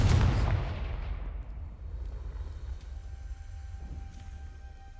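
A fiery Confringo spell blast goes off in the Hogwarts Legacy video game, a loud booming burst at the start that rolls off into a long fading rumble and low background hum.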